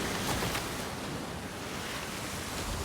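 Open-ocean waves and wind in the video game Senua's Saga: Hellblade II, a constant dense roar of surf and gusting air, steady and loud throughout with no voices.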